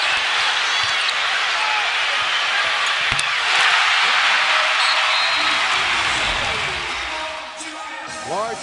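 A sellout crowd of about 17,000 cheers after a shot at an NBA game between the Lakers and Hornets at the Hive, a broad roar held steady for several seconds before easing slightly.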